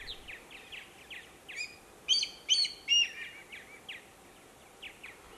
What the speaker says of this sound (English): The common blackhawk is an uncommon summer visitor to the area and can usually be located by its shrill call.